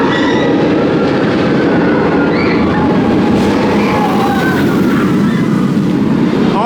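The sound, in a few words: B&M hyper roller coaster train Shambhala running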